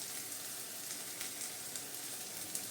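Capsicum and grated carrot fry in a pan with a steady, even sizzle, close and continuous, with no talking.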